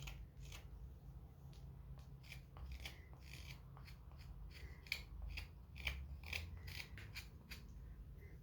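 A saw or blade rasps through wood as the back profile of a small carved wooden gnome is cut in an old wood shop, a run of short scraping strokes, close and fairly quiet.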